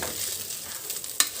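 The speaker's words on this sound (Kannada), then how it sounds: "ಈ ರೀತಿ ಎಣ್ಣೆಲಿ ಸ್ವಲ್ಪ ಫ್ರೈ ಮಾಡ್ಕೊಳ್ಳಿ ಅಕ್ಕಿನ" Rice frying in oil for jeera rice, a soft steady sizzle with faint stirring and one quick clink of a utensil toward the end, no voices.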